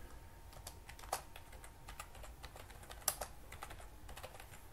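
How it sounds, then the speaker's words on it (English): Typing on a computer keyboard while entering a search for the Windows recovery drive tool, a quiet, close run of irregular key clicks with a couple of sharper taps, no voices. "So as you can see here, I'm going to type it in."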